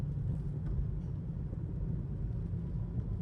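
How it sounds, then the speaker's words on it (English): An 8th gen Honda Civic Si accelerating on a test drive, a steady low engine rumble and road noise heard from inside the cabin, fairly subdued and continuous. "Do a quick little baby pull here just to make sure nothing rubs when I'm gassing it."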